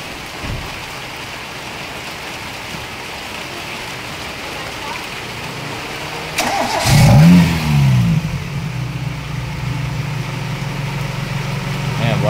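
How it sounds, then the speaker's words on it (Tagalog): An EE100 Toyota Corolla engine cranks and catches after a stretch of steady background hiss, revving briefly in a loud rising-and-falling surge before settling into a steady idle hum. "pa-start yung engine"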